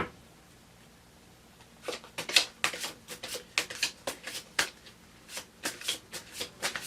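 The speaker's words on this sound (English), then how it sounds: "So I want to pull a few more cards on this one." A deck of tarot cards is shuffled by hand, close and fairly quiet, with repeated riffling bursts in an uneven rhythm and no talking.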